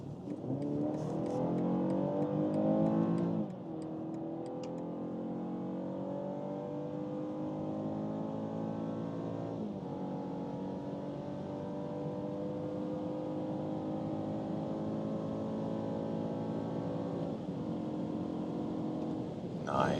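An Audi A5 or BMW 4-series accelerates hard on the Autobahn from inside the cabin, its engine note climbing steadily through the gears. Brief dips mark the shifts, and the drone stays loud and sustained throughout.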